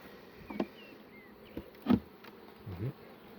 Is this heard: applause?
no